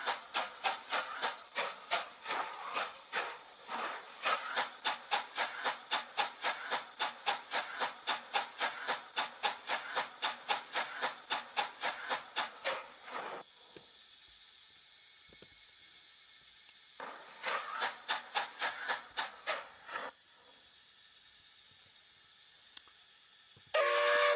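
A steam locomotive pulls away after uncoupling from its carriages in a Roblox train game, with rapid rhythmic chuffing exhaust beats that fade to a steady hiss, return in a shorter burst, then settle.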